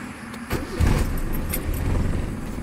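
A car engine is started after its drive belt has been tightened: keys jangle, then a low engine rumble rises and settles into a steady idle, loud and close.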